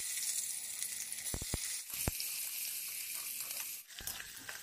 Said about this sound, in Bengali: কড়াইয়ে তেল দিয়ে এখানে তেজপাতা, শুকনো লঙ্কা, জিরে ফোড়ন দিয়ে পেঁয়াজটা লাল লাল করে ভেজে নেব।